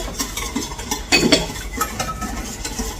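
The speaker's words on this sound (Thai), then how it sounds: "ตอนนี้คนให้เข้ากันแบบนี้" A utensil stirs chocolate muffin batter mixed with melted butter in a bowl, making continuous soft scraping strokes with one louder clink partway through and no talk.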